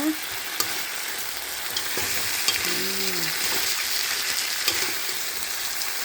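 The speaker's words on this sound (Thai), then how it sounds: "ใส่ปลาเนนทอดของเราลงไปเลยค่ะ นี่ ใส่ลงไปเลย แล้วก็คลุกเคล้าให้เข้ากันนะคะ" Fried tilapia being stirred into a spicy curry in a frying pan gives a steady, close sizzle with soft scraping stirs and a few clinks, with no talking.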